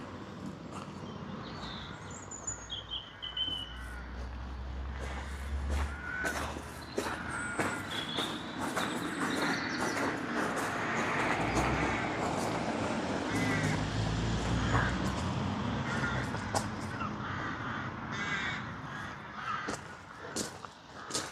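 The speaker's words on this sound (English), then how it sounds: "the crows are always really loud when we visit here" Crows cawing loudly and repeatedly at varying distances, harsh calls overlapping amid outdoor ambience with occasional footsteps.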